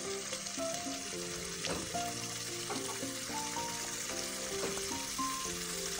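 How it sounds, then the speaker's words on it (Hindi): Spices for mutton Shimla curry frying in a pan, a steady dense sizzle filling the whole span, close and constant, with tonal background music running underneath. "और इनको मसालों को भून लेते हैं।"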